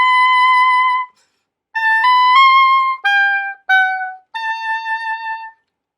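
A solo oboe plays a rehearsal passage for an all-state honors band slowly, in clear sustained tones grouped into short phrases with brief pauses between them.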